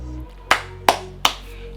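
Three sharp, separate claps spaced about a third of a second apart, close and distinct over a quiet kitchen background, celebrating a homemade sweet and sour pork dish.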